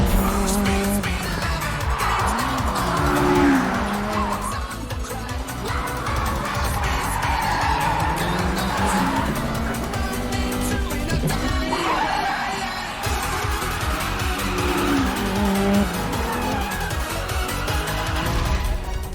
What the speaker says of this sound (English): That's some unbelievable high rev on that engine.